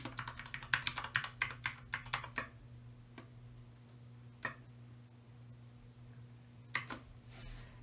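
A computer keyboard clatters with a quick burst of keystrokes while a password is typed, then a few isolated taps follow amid quiet room hum.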